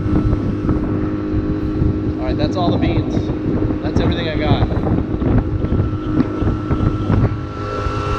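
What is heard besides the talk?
inflatable dinghy with outboard motor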